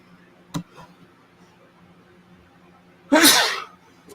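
One loud, close human sneeze near the end, coming after a faint click and a quiet stretch, with no talking around it.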